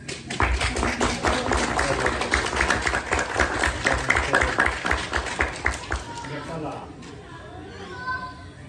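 An audience claps for a speaker at a science talk, a busy burst of applause with some chatter and children's voices mixed in, fading out after about six seconds.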